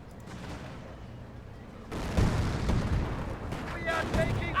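Rifle grenades and gunfire in Company of Heroes: distant rumbling battle noise gives way to a sudden loud burst of explosions and rattling shots around the two-second mark, followed by scattered pops and blasts as the fighting continues.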